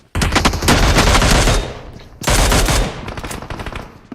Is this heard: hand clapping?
no